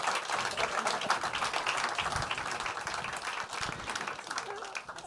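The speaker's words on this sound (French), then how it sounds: "Vous pouvez, malgré tout, les applaudir." A conference audience at a dialogue event on agricultural and food resilience claps together in a sustained, even round of applause, dense and moderately loud throughout with no voice rising above it.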